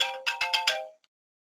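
A phone ringtone plays close and clear, a short melodic burst of four rising electronic tones that cuts off abruptly into silence.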